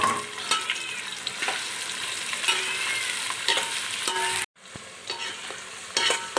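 Onions sizzle and fry loudly in a pan for white chicken pulao, a continuous crackling hiss with occasional stirring scrapes and a brief dropout near the end.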